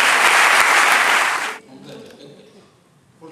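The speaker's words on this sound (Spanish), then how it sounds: "Un aplauso fuerte para estos dos que son muy grandes." Audience at a sports awards gala applauding loudly in a dense burst that cuts off abruptly partway through, followed by quiet room tone and faint voices.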